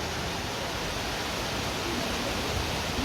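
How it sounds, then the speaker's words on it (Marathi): Heavy rain falling in a sudden downpour, a dense, even hiss of rainfall that stays loud and unbroken throughout, with no voices. "हे पहा पाऊस बघा पाऊस चालू झाला"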